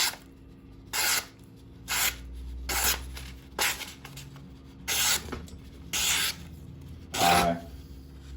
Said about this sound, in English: we've got a piece of paper over here, and we're just going to do the usual sort of slicing test